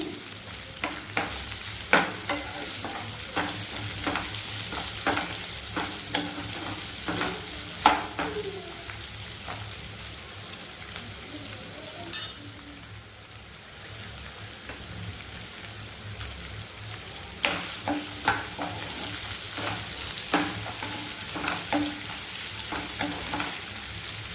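Onions fry in a pan for a paneer cashew curry, a close crackling sizzle like rain on a surface, punctuated by regular spatula clicks and scrapes for most of the stretch.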